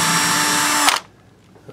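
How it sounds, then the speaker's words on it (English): A power drill bores into an electric guitar headstock, whining loud and steady, then stops abruptly and leaves near silence. "Because you don't want to drill through the headstock all the way through."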